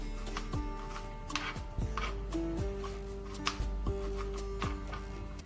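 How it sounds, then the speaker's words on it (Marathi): A knife chops kantola (spiny gourd) lengthwise in a quick, irregular run of close taps against a board, with faint background music and no talking. "हे अशी लांबीच कट करून घ्यायची आपल्याला"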